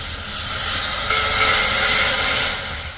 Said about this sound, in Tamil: இந்த எண்ணெயிலே கொஞ்சம் வதக்கிக்கோங்க.